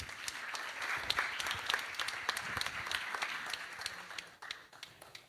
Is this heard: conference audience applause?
yes